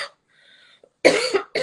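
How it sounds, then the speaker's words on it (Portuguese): A single sharp cough bursts out after a brief pause, followed by a shorter second cough, close and loud. "realmente estou com uma tosse ainda muito insistente"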